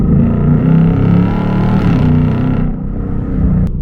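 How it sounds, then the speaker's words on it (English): A 2024 Ford Mustang GT with active exhaust idles close by with a loud, deep growling rumble, holding steady before easing off toward the end. "the active exhaust, makes me say this sounds better than the GT350"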